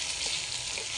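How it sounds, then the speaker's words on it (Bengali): Onions fry in a pan over a wood-fired clay stove in a meat shop kitchen, a steady dense hiss of sizzling oil filling the whole second with no pauses and faint crackles underneath. "আমাদের দোকানে রান্না হচ্ছে মাংস, পেঁয়াজ কষা হচ্ছে।"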